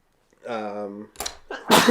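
A short voiced intake rises into a sharp, explosive sneeze, followed by a brief second burst, close and fairly loud.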